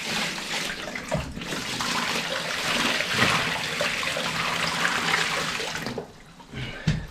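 Water rushes down the drain of a shower inside a DIY expedition vehicle after about 30 litres were poured in, a steady close gushing flow that cuts off near the end, followed by a few small drips and knocks.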